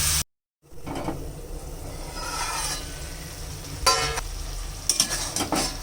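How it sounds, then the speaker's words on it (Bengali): Chopped radish being stirred with spices in a pan for a Bengali dried-fish radish dish: soft sizzling with scraping spatula strokes, a brief cut near the start and a couple of sharper scrapes later, no talk. "এখন আমি কুচানো মূলাটা দিয়ে দেব। এখন একটু নেড়ে ছেড়ে নুন দিয়ে দেব"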